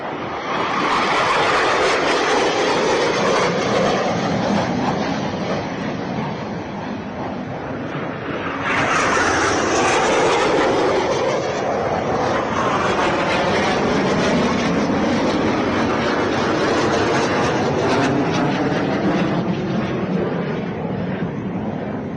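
Indian Air Force MiG-21 supersonic jets fly past in a ceremonial flypast, a loud, continuous broadband roar that swells and surges midway with no voices over it.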